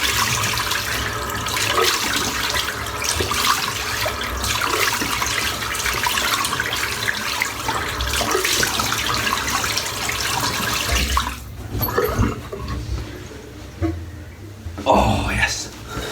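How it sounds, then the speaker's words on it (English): Tap water runs steadily while a freshly shaved head is rinsed, a continuous splashing wash that lasts most of the stretch before breaking into shorter trickles and splashes near the end. "I'm just going to rinse my head off."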